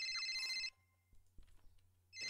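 A phone rings inside the Roblox game, a bright electronic tone sounding at the start and again at the end with a quieter gap of faint noises between.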